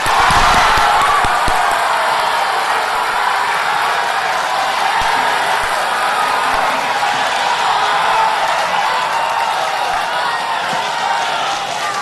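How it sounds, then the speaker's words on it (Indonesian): A live studio audience applauds at the first 2014 Indonesian presidential debate between Jusuf Kalla and Prabowo, a loud, steady wash of clapping and crowd noise that fills the whole stretch without letting up. "Silahkan tepuk tangan."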